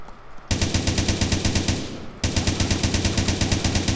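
Rapid automatic gunfire from the video game Blockstorm rattles out in two loud, sustained bursts with a brief break between them.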